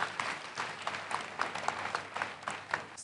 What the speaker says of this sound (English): Once again, let us clap for Jesus Christ.